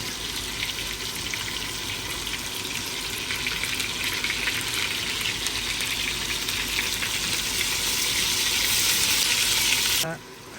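Onions frying in a pan for chicken and pork belly adobo give a steady, dense sizzle that builds slightly louder over about ten seconds, then cuts off abruptly near the end.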